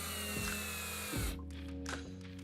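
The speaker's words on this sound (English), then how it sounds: "I'll center the base onto the tabletop and attach with screws" A power driver sets screws attaching a trim router base to a melamine tabletop, a close whirring drive with a couple of short bursts over steady motor hum.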